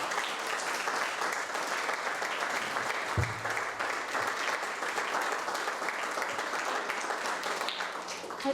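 An audience at a journalism panel event applauds continuously, a steady, moderately distant wash of many hands clapping with no break across the whole stretch.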